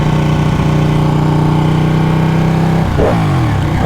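A Ducati Panigale 1199 motorcycle engine revs hard and steady at close range, holding a loud, even drone for nearly three seconds before the revs drop sharply and fall away.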